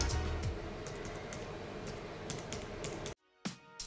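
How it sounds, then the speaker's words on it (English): Typing on the plastic keys of a Microsoft Surface Keyboard, with a steady run of close, crisp key clicks that stops abruptly near the end, followed by a single last tap. "the quintessential part of the keyboard is the keys, which are made of plastic. They got good click feel"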